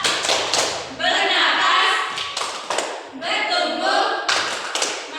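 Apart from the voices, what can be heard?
class doing rhythmic clapping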